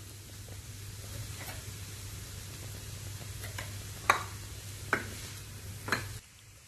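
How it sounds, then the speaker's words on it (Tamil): Onion and drumstick leaves sautéing in a pan, a faint steady sizzle with a low hum beneath and a few sharp spoon scrapes near the end, no voices. "ஒரு ரெண்டு நிமிஷம் வதங்கட்டும்."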